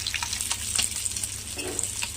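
Pieces of fish frying in hot oil in a pan, a steady close sizzle with crackling pops running without a break.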